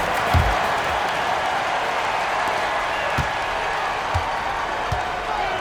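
Crowd noise from an arena during an NBA 2K basketball game, Suns against Clippers: a steady, dense roar of applause and cheering with a few low thumps scattered through it.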